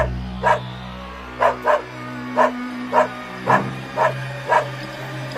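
A dog barks in a series of sharp, evenly spaced single barks, about eight of them, fairly close and loud, with a steady low musical hum running underneath.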